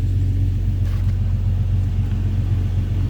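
A 1998 Jeep Cherokee's 4-liter inline six idles close by with a steady, even low rumble and smooth hum, running alone without talk.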